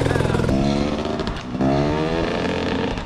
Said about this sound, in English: But Carl switched gears when he didn't even hit the power band